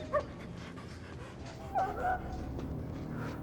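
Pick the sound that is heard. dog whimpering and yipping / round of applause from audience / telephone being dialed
dog whimpering and yipping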